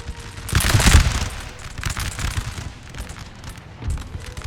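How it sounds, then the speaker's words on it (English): Rapid musket volleys crackle and boom in a Napoleon: Total War siege battle, a dense burst of loud gunfire rolling near and far, then tapering into scattered shots and a final short volley. "They are firing. Alright. Give them return fire,"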